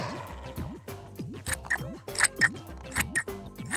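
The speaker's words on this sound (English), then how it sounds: "keep your card folded and cut out your shapes" Scissors snip repeatedly through folded card, cutting out shapes, crisp rhythmic cuts with small crunching clicks, close and clear.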